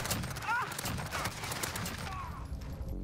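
Rapid bursts of gunfire from the video game Call of Duty rattle out in a dense, continuous stream over about three seconds, loud and close, with no pause between shots.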